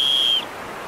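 A plastic whistle gives one steady, shrill, high blast lasting under half a second, loud and close, then cuts off into quiet room noise.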